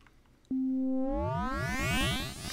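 Exponential FM synth patch in Blockhead software: a steady tone starts abruptly, then swells into bright, metallic sweeping overtones that rise and fall in a wobbling pattern, loud and alone with no talk.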